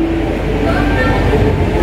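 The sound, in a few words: train at Yogyakarta station platform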